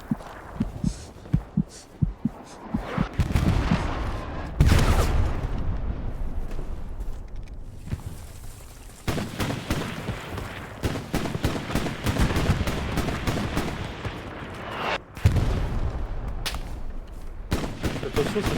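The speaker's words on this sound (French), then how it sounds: "Attention, ça tire à l'est." Gunfire in the World War II shooter Hell Let Loose: repeated loud shots and bursts, some close and sharp, others in rapid strings, with a thick rumbling battle backdrop under occasional voices.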